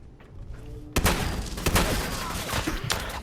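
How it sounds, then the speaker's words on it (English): Shotgun blasts ring out in the video game Fallout 4, a quiet stretch giving way to a sudden loud burst followed by several more sharp booming shots in quick succession. "Apparently, shotguns don't do damage anymore."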